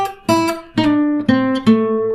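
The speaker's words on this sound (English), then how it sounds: "So here's the entire guitar lick number 2." An electric guitar plays a short blues lick, four clean plucked notes in an even rhythm, close and clear, with a half-step bend swelling on the sustained notes.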